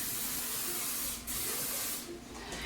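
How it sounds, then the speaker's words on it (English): Non-stick cooking spray is sprayed into bowls over a sink, giving two loud, close bursts of aerosol hiss, the first longer and the second short, with no talking. "we're gonna spray these with a little bit of non-stick spray"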